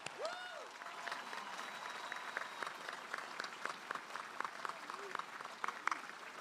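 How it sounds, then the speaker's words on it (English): A crowd applauds at a 2022 high school graduation ceremony in Flinn Stadium: steady, scattered clapping runs through the whole stretch at a moderate distance, with a few whoops and a brief whistle rising over it. "Please give these guys a round of applause."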